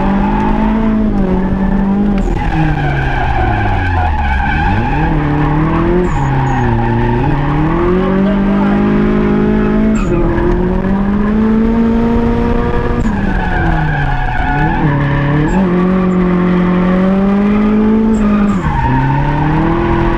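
Drift car sliding through a run at a drift event, engine howling at high revs with pitch swinging up and down as the tires squeal and skid continuously throughout, loud and close.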